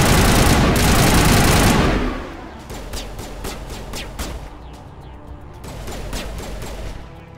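Gunfire in the video game Mass Effect: a dense, loud barrage for about two seconds, then scattered single shots and short bursts at a lower level.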